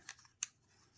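Scissors snip paper trimmed to width for an embossed ocean-themed birthday card, two short crisp cuts about a third of a second apart, close and fairly quiet.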